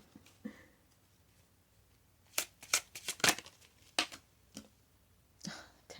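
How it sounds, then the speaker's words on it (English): Chunky tarot cards are shuffled and drawn, close and soft, in a quick cluster of crisp riffling snaps followed by scattered single card flicks. "Let me get another card for that."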